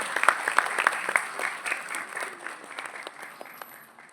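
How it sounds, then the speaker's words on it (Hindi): Audience clapping at a university workshop on neuroplasticity in Jaipur, a steady wash of applause with a few sharp louder claps early on, fading slightly toward the end. "जोरदार तालियां मैडम के लिए"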